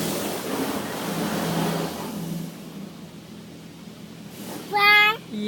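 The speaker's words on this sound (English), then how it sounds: "Oh, it's rinsing off the bubbles." Car wash water spraying and rinsing suds off a car, a broad steady wash of spray heard from inside the vehicle that eases off midway, with a voice chiming in near the end.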